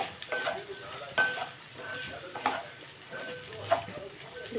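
Okra fry being stirred in a pan with a small spoon during home cooking, giving repeated scraping strokes over a steady oil sizzle, close and fairly quiet.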